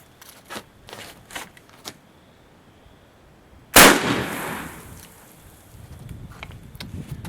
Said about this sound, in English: I'll shoot the ground over there.